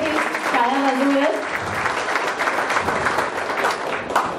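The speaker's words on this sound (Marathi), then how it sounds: "एकदा आपण नियोजन समितीसाठी टाळ्या वाजवूया" An audience at the inauguration session of the sixth Malvani dialect literary conference breaks into sustained applause for the planning committee, following a brief spoken moment at the start.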